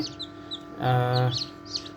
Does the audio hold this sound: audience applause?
no